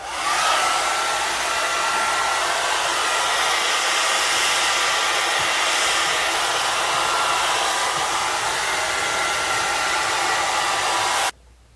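A hair dryer blows heat on freshly bleached hair in a steady, loud, close whoosh that runs almost unbroken, then cuts off abruptly at the end.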